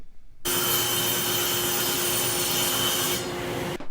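A power saw trims an oversized plywood drawer bottom to fit an Ikea-style drawer during a repair, a steady loud cutting whine that starts abruptly, holds for about three seconds, then eases and stops.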